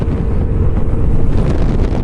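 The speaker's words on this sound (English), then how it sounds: "there's a lot of wind up here on this bridge" Steady, loud wind buffets the microphone on an elevated bridge at Sloss Furnaces, the historic iron-making site in Birmingham, with a continuous low rumble and gusty roar throughout and no talking.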